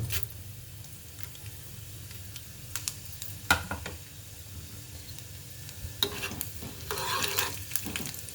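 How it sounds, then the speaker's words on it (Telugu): Urad dal dropped into a small amount of hot oil for tempering, crackling and sizzling in a pan with occasional stirring clinks, a steady low fry building to busier bursts near the end, close and without talk. "నూనె కాగిపోయింది, తాలింపు వేసేసుకున్నాం. మినప్పప్పు వేస్తున్నానండి"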